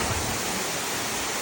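Lugnason waterfall in Siquijor, Philippines, rushes in a loud, steady broadband roar of falling water with no breaks, close by and with no voices.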